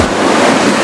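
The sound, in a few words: fast-flowing Alaknanda and Dhauliganga rivers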